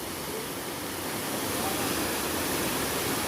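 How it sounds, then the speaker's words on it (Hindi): Water gushes steadily from a newly laid supply line, a loud, broad, continuous rushing hiss without pause, close by, with a voice faintly underneath. "आज नई लाइन से पानी की सप्लाई और"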